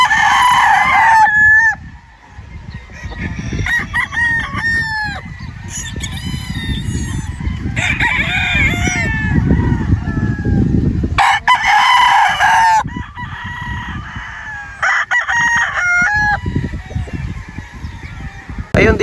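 Roosters (stags) and pullets on a spacious farm crow repeatedly in overlapping calls, some near and loud, others farther off, with clucking and fowl chatter throughout and no talking.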